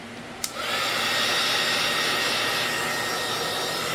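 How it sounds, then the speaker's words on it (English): A heat tool switches on with a click and blows a loud, steady whirring roar at close range while drying a watercolor mountain landscape painting. "Let's go to heat tool. I'm going to heat tool right now. This is a little bit loud."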